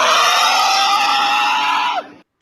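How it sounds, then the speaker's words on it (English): A man lets out a loud, sustained happy scream lasting about two seconds, holding a strained pitch before it drops off sharply into silence. "I just gotta let out a quick scream"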